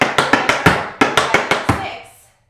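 Tap shoes striking a floor in crisp flap, shuffle and heel steps, a quick run of about a dozen sharp, close taps in uneven rhythm before the sound stops.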